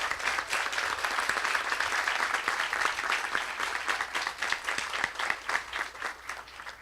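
An audience in Brazil gives a sustained round of applause in tribute to a deceased cartoonist, with dense, steady clapping throughout that grows choppier toward the end.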